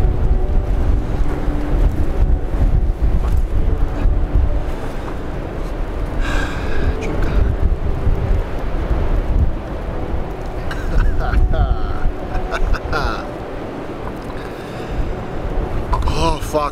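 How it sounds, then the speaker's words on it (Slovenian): Strong wind blows across the mountain Nanos in Slovenia, a constant heavy roar buffeting the microphone, with a voice briefly audible in places. "noro, kako piha"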